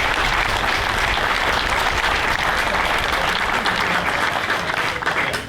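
Sustained, dense applause from a crowd at an outdoor Flag Day groundbreaking ceremony, honoring the design and construction team; steady loud clapping fills the whole stretch without pause.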